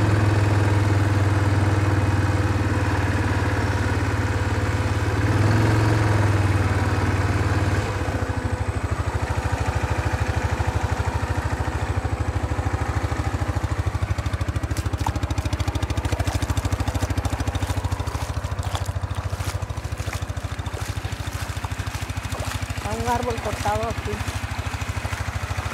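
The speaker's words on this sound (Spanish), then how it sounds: "Como pueden ver, andamos con las motos bien." Motorcycles ride around a ranch, engines idling and chugging steadily up close for a long stretch, with clattering and people talking over the motor noise.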